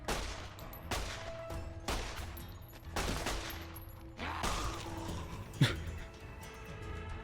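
Gunfire in Fallout: New Vegas in the Mojave: a string of sharp, loud shots spaced about a second apart, each with a trailing decay, then a final bright crack, with dog-like barks and whimpers mixed in.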